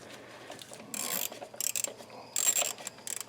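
Ratchet tightening a starter bolt on a Jeep Compass, several short bursts of rapid clicking separated by pauses, close but fairly quiet.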